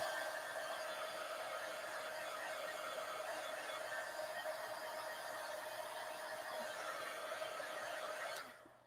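Hair dryer blowing steadily on the back of a napkin art journal page, a close, constant whirring hiss that runs unbroken before cutting off abruptly at the end.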